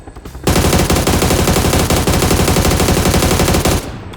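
A sustained burst of rapid automatic gunfire in the video game PUBG, loud and close, running unbroken for several seconds before cutting off.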